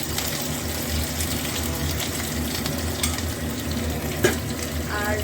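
Chopped onions fry in hot oil for Bhapa Chicken, a loud, steady sizzle close by, with a brief clatter near the end.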